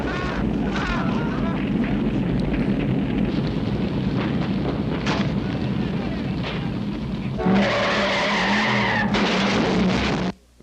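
Tires screeching as a car skids in a scene from the disaster film City on Fire, loud squealing over engine roar and commotion, ending in a sharp high-pitched skid just before the sound cuts off.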